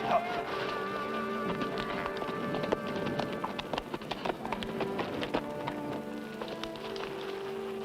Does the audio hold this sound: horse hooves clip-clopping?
yes